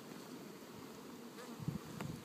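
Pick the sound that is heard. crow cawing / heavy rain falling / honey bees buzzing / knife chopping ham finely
honey bees buzzing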